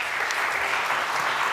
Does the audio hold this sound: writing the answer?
no